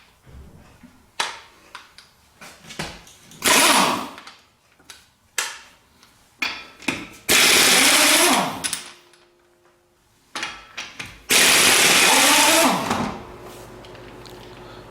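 Impact wrench spinning lug nuts off a wheel of a 2011 Chrysler 200 during a brake pad job, heard as three loud, sustained whirring bursts separated by clicks and handling knocks.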